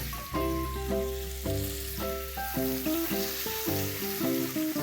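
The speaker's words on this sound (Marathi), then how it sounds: "आता हे चिकनचे तुकडे आपण फ्राय करायला ठेवू" Chicken pieces fry in hot oil in a pan, a steady close sizzle running throughout with no talking, overlaid with repeated tonal beeps or chimes in a regular rhythm.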